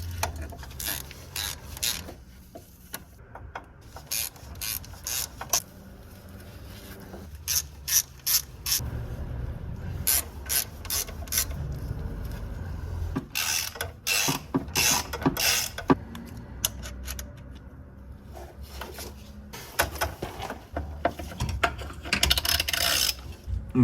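Bursts of rapid ratchet clicking from a socket wrench fitted with a T40 socket, loosening the coil pack bolts on a Porsche Boxster 987 engine. Several separate runs of clicks are broken by pauses and light metallic handling noises, close to the microphone.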